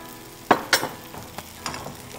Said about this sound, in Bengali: তিনটা এখন ভাজা হবে